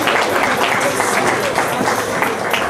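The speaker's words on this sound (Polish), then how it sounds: "Jeszcze raz prosimy o brawa." Audience applause at a women's awards gala in Olsztyn, a steady dense wash of clapping from a large crowd filling the short stretch without a break.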